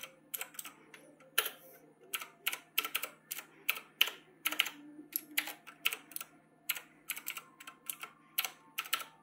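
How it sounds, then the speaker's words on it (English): Keys clatter on a computer keyboard as an email address is entered, a steady run of close, crisp taps in short bursts with brief pauses, with no voices. "So I will type in my email address"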